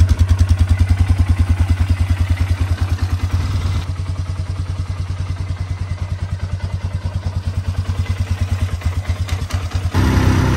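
A Polaris Sportsman 500 ATV engine runs close by with a rapid, even thumping idle that dips slightly partway through and then picks up again near the end, with no talking.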